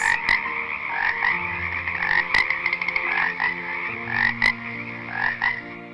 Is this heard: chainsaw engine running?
no